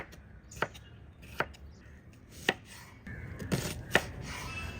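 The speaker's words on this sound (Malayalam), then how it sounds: "സവാളയാണ് കട്ട് ചെയ്യുന്നത്" Onion cut with a knife on a board, about six sharp isolated chops spaced unevenly, close and fairly quiet, without voices.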